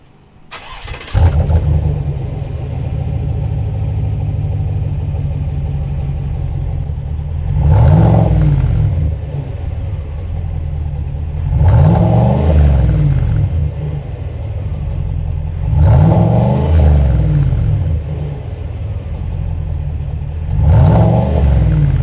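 A 6.2L Chevrolet V8 fitted with an upgraded exhaust, flapper and muffler, idles with a loud steady rumble and blips its throttle in four spaced revs, each swelling and falling back to idle.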